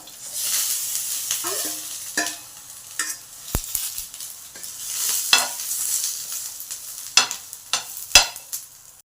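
Lentils, curry leaves and fresh coconut frying in a pan for peanut chutney, a steady sizzle broken by repeated scraping and stirring strokes of a spoon, close and fairly loud.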